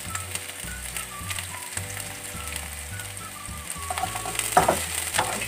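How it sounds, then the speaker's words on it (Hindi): Vegetables with green chili and capsicum stir-fried quickly in a pan: a continuous soft sizzle with rhythmic scraping and tossing of a spatula, a few sharper clinks toward the end. "इसे आपको एकदम जल्दी जल्दी फ्राई करना है, बहुत ज़्यादा हमें वेजिटेबल को फ्राई नहीं करना है, बस हल्का सा।"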